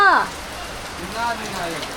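Steady hiss of rain falling on a surface, with a brief voice fragment at the start and faint voices later.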